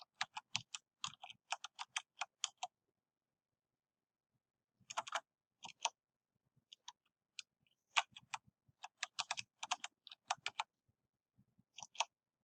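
Crisp clicks of fingers typing on a computer keyboard, entering a name, come in quick bursts separated by short pauses, close and clear with no talk over them.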